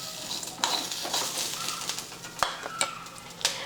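Cumin seeds added to a hot pan for tomato chutney crackle and sizzle, with a few sharp clinks of a spoon against the pan over a low frying hiss.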